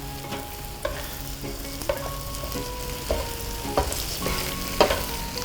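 Eggs frying in a hot pan over low heat are pushed slowly around with a utensil, giving a soft steady sizzle broken by gentle scraping strokes about once a second.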